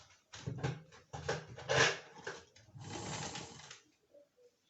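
A sewing machine stitches down a folded skirt slit in short, close bursts of whirring with brief gaps between them, ending in quiet.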